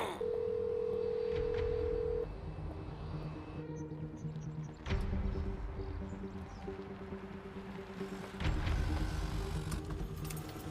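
A telephone being dialed, with a steady tone and a series of short key beeps under low rumbling background noise, close and fairly quiet, with no talking.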